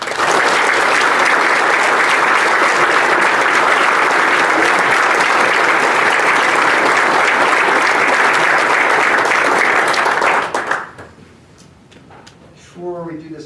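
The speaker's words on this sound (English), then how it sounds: "So we would like to applaud this officer for his work" Sustained loud applause from the audience at a West Goshen Township Board of Supervisors meeting honoring a police officer, steady clapping for about ten seconds before dying away as a voice begins speaking.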